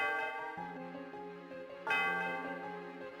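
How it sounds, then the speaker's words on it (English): Bell of the Celestial Tower in the Pokemon Black video game, struck twice with sustained, resonant chiming tones that ring out and decay under soft game music. "The sound of the bell reverberates through the area."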